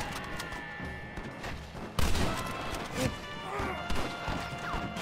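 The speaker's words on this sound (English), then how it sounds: "why you shooting when I'm trying to shoot?" Gunfire from the Red Dead Redemption video game: a dense, cluttered stretch of sharp shots and crashing impacts, with bursts around the middle, layered over game sound and background noise.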